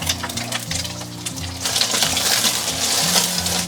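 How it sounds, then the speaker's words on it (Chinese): An egg fries in hot cooking oil in a heated iron wok, giving a steady, loud crackle and spatter that thickens and grows brighter after a moment, with no talk. "然后打入鸡蛋，把鸡蛋给它煎一煎"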